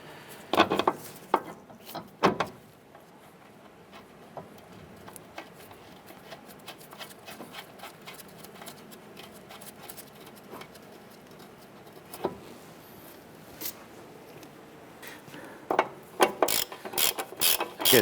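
Ratchet snugging down the nut on a ball joint during a 2008-2012 Honda Accord driver side strut and spring replacement, rapid clicking pawl bursts close by, starting and stopping in short runs with quieter stretches between.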